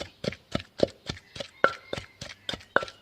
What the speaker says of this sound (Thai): ตำพริกพอเล็กแล้วนะเจ้าก็เอา ปลาราซับละเอียดลงไป ตำเลยนะเจ้า